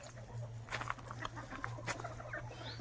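Country-breed parent-stock chickens and roosters, birds of about two to two and a half kilograms, cluck in scattered bursts across a poultry farm, with a steady low hum running underneath.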